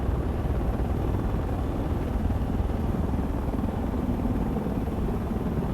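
A V-22 Osprey tiltrotor's engines and rotors drone steadily and loudly as it lifts off in the video game Project Reality, a constant churning hum with no voices.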